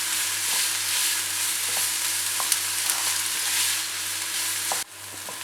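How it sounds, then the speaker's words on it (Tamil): Onions sautéing in oil in a kadai for egg masala, an even close sizzle with faint spoon taps and stirring, ending in a sharp knock as the sound drops. "நல்லா வெங்காயத்தை வதக்கிக்கோங்க"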